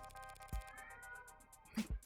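A cat meows at a closed bathroom door, two short close cries about a second apart standing out against a quiet room background.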